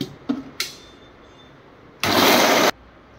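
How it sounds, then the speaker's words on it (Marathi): A kitchen mixer pulses once briefly at close range, grinding cashews, almonds, walnuts, grated coconut and makhana coarsely, after a few clicks and knocks. "हे आपण मिक्सरला लावून घेणार आहोत."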